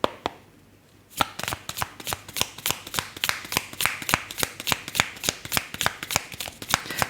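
Tarot cards being shuffled close up, a rapid train of sharp, evenly spaced riffling snaps after a brief quiet pause, with no talk.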